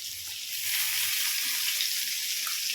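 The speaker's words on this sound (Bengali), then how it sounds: "এবার আমি ভালো করে কষিয়ে নেব।" A spice paste of poppy seeds, melon seeds, cashews, cumin, ginger, garlic and green chilli sizzles steadily in a pan while being sautéed for potol dorma, a soft, constant hiss close by.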